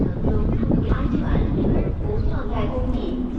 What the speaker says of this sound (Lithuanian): šiaip vėjas vis dar didelis